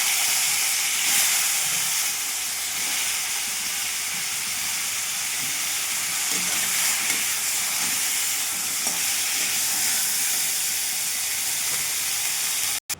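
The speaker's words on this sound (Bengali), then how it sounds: "এবার এই তেলের মধ্যে ফুলকপিগুলো ভেজে নেব।" Cauliflower pieces fry in oil left over from frying fish in a kadai, giving a loud, dense, continuous hiss and sizzle that holds steady throughout, with faint stirring knocks underneath and no voices.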